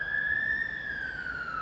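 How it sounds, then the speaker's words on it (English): An emergency vehicle siren wails at night near Wigan North Western railway station, a single steady, fairly loud tone that sags slightly in pitch over a faint background rumble. "And there's your nightly sirens."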